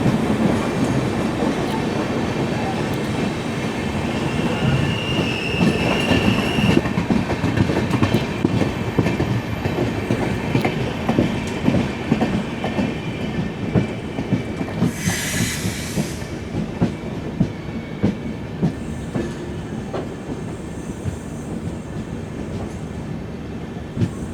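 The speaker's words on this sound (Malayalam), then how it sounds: "എറണാകുളം ഹസ്രത്ത് നിസാമുദ്ദീൻ മംഗള ലക്ഷദ്വീപ് എക്സ്പ്രസ്സാണ്." The Ernakulam–Hazrat Nizamuddin Mangala Lakshadweep Express passes close by, a loud, sustained rumble of rolling wagons with rhythmic wheel clatter, a brief high squeal midway and a horn-like tone near the end.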